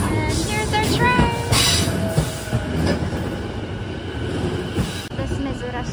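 A train pulls into a station in Okutama, Japan with a loud, steady rumble, screeching wheel squeals and clattering rails throughout.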